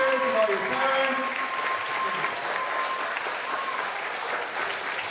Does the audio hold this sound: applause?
yes